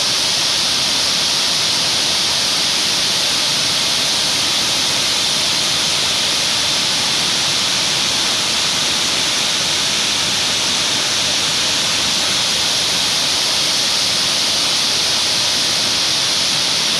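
A forest stream swollen by monsoon rain rushes past, a loud, unbroken roar of water that holds steady and close for the whole stretch with no voices.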